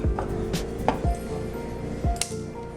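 Eggs being cracked for breakfast, with a few sharp taps and knocks against a hard edge in a kitchen, close and distinct, followed by soft clicks.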